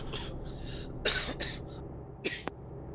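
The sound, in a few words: coughing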